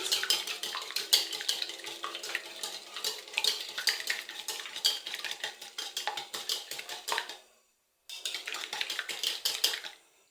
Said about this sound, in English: Then you mix it.